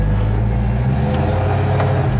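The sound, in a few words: 1971 Chevelle convertible engine revving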